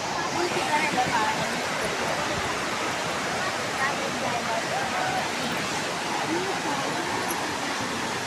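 Rushing water pours continuously at Courtallam waterfall, a loud, broad, unbroken roar filling the scene with a crowd of bathers nearby.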